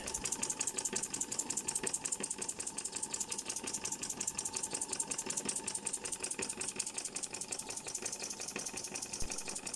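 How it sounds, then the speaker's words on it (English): A model wobbler steam engine runs at low speed with its regulator almost fully open, giving a rapid, even mechanical chuffing and knocking that stays steady and close throughout, with no talking. "You might have noticed that the engine runs at quite a low speed with the regulator almost fully open."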